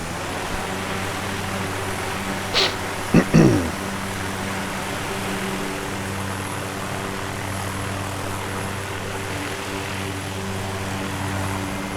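A helicopter engine runs steadily at Ibiza Airport before takeoff, a constant droning hum with a couple of brief knocks and clicks near the start, heard from inside the cabin.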